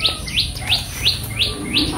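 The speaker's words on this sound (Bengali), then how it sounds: "বাতাস ছাড়ছে আর পাখি কি ডাকাডাকি শুরু করছে" Birds calling outdoors on a breezy day, a clear repeated chirp sounding about every third of a second, close and fairly loud over a low background rumble.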